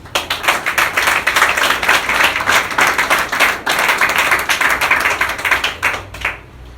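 An audience claps steadily for several seconds at a religious lecture, dense and loud without any voices, then the applause fades out near the end.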